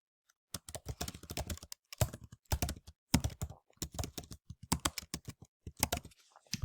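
Bursts of rapid keyboard typing, close and crisp, coming in short uneven runs with brief pauses between them, with no voices.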